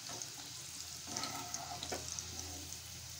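Green chillies fry crisply in oil for poha chivda, a close, continuous sizzle with brief bursts of crackling and a soft stir partway through.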